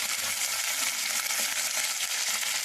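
Curry leaves, cumin and mustard seeds crackling in hot oil for mango pulihora, a dense, continuous bright sizzle heard up close with no voices.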